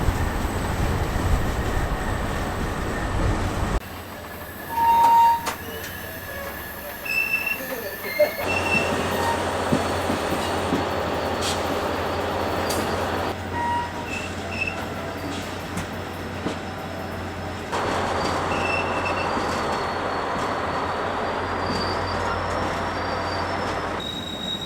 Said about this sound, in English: Of course, this causes more squealing of wheels and coupling plates.